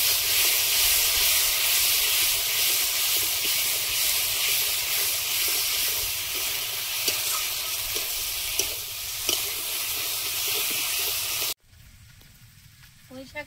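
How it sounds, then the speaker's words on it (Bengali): Taro frying in a pan with ground spice paste, a dense steady sizzle and hiss with stirring scrapes running for about eleven seconds, then cutting abruptly to a much quieter background. "বাটা মশলাটা দিয়ে দেবো, দিয়ে কচুটা আর একটু কষিয়ে নেব।"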